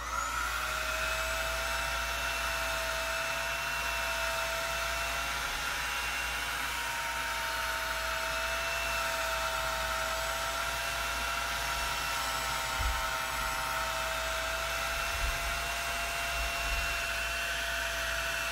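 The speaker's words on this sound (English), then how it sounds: "I'm gonna attempt to blow dry it." A hair dryer blows steadily on hair styled from big Bantu knots, a constant loud whooshing drone with a high motor whine that runs unbroken throughout, with no talking.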